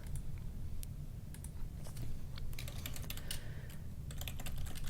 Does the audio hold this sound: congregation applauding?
no